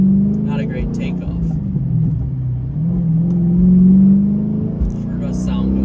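A Dodge Challenger SRT with a Tremec 6060 six-speed manual and track pack revs up and settles again. The deep, loud engine note swells and falls over roughly six seconds, with voices talking over it.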